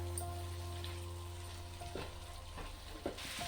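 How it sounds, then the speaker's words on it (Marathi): Prawns frying in a pan with a little salt for a creamy butter garlic prawn starter, a steady soft sizzle with a low hum underneath and a few faint stirring clicks, no voices. "आणि आता ते मस्त थोडे फ्राय करून घेते आता मी प्रॉन्स"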